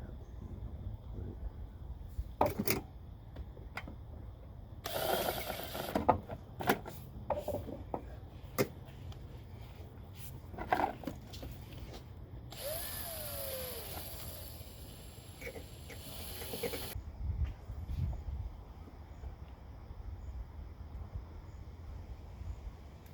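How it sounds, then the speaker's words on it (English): A self-tapping screw is driven into the body of a Ram 1500 with a power driver, giving a few seconds of loud, steady whirring. Softer knocks, handling and scraping noises come before and after it. "It's a self-tapping screw."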